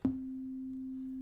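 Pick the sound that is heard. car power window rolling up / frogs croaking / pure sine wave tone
pure sine wave tone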